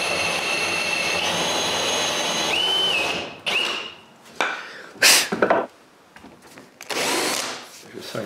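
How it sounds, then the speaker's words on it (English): A power drill fitted with a larger bit bores holes for inserts in a cedar patio tabletop, whining steadily for about three seconds before cutting off, followed by a few short, sharp bursts of noise. "I'm now able to align a bigger drill bit to drill the holes for the inserts"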